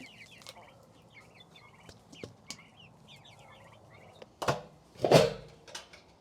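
Chickens in a farmyard during morning chores, with scattered faint clucks and chirps and a louder burst of fowl calls near the end over low background rumble.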